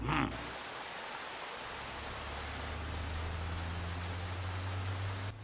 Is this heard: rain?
yes